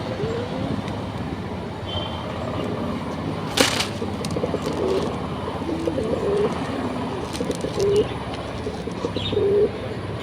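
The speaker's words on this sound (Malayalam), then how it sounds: "പ്രാവ് തീറ്റ കഴിക്കണണ്ട, നല്ല രസമാണ് കാണാനായിട്ട്." Pigeons coo softly several times while feeding in a busy outdoor spot at a hospital, with steady background noise and a sharp clatter partway through.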